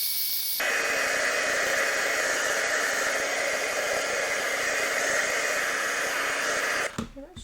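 A heat tool blows steadily to dry ink on a handmade card, a loud, even hiss-like whoosh running unbroken for several seconds before cutting off abruptly.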